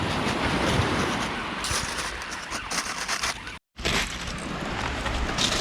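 Surf washing up on a pebbly beach on the Jurassic coast, a steady broadband rush with wind buffeting the microphone, briefly cut to silence partway through before the wash resumes.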